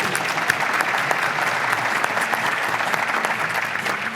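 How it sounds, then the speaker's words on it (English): An audience applauds a panelist at a housing industry panel event, dense steady clapping from a crowd filling the room without pause. "Let's give Larry a nice round of applause."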